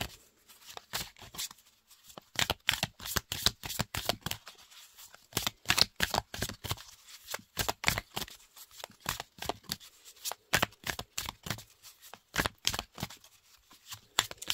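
A deck of Apollonia oracle cards is shuffled by hand, a steady stream of sharp, rapid card slaps and riffles up close, pausing briefly now and then.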